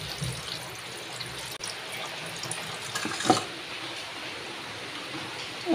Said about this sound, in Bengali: ধুয়ে নিই।